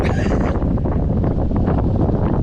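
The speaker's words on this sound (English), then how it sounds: "There's a right southerly just blowing right through the middle of the loch now." A strong southerly wind blowing across Loch Lomond, loud buffeting gusts roaring over the microphone nonstop and close up, with no talk.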